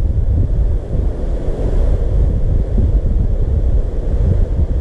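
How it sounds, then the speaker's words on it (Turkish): Steady gusty wind rushing over open water with surf-like wash, heard outdoors while light-tackle lure fishing with a Savage Gear SG2 Micro Game rod; loud and continuous throughout with no voices. "Rüzgar da bize kamuflaj yapıyor."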